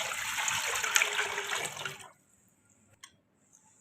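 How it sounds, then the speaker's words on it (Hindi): Water from a tap runs into a cooking pot for Kashmiri pink tea, a steady splashing stream that stops abruptly, followed by a few faint drips. "1 लीटर पानी डालेंगे जी।"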